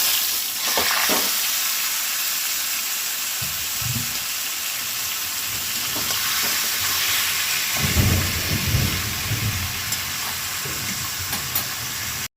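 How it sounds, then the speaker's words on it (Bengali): Taro leaves tossed into hot oil with spices for a vegetarian taro-leaf dish with green chickpeas and coconut, giving a steady, close sizzle with soft thumps and scrapes of stirring throughout, no voices. "ভাজা হয়ে গেছে, এবার এর মধ্যে দিয়ে দেবো কচুর শাকটা।"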